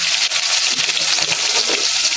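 Onion frying in hot oil with cumin seeds for a Bengali fish kalia, a dense continuous sizzle and crackle with light pops, steady and loud throughout, no voices.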